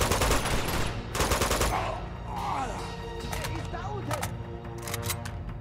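Bursts of gunfire and explosive crashes from grenades in Uncharted 2, dense rapid shots at first, then scattered pops and blasts under steady game ambience and music.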